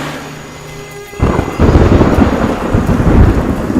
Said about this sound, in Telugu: వర్షం ఎక్కువయ్యేటట్టుంది